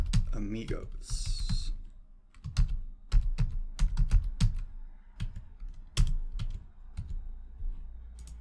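A new password is typed on a computer keyboard, a quick run of crisp, close key clicks in short bursts, with a brief spoken phrase at the start.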